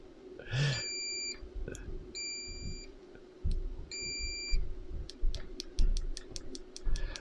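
Continuity-test beeps from an Aneng A830L budget multimeter, a few sustained electronic tones separated by pauses, then a rapid run of short ticks near the end, with soft handling clicks and thumps of the probes underneath.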